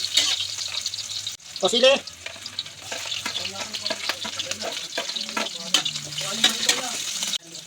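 Onion and chili frying in cooking oil in a home kitchen, a steady loud sizzle with stirring scrapes throughout, while someone speaks briefly over it.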